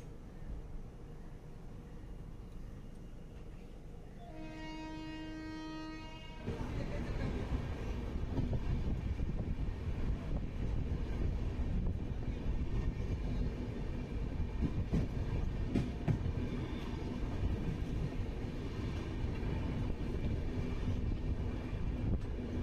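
Padatik Express train at Dalkhola station platform 1: a rumbling train sound that swells and holds steady, with a brief tonal horn-like chime before the rumble gets louder.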